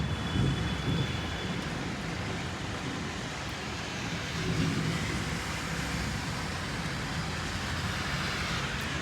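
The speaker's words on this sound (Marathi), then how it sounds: "आमच्याकडे अशा प्रकारे पाऊस चालू आहे" Heavy May rain pours steadily in Nashik, a dense, constant roar with low rumbles of thunder beneath it.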